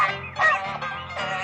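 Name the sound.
geese honking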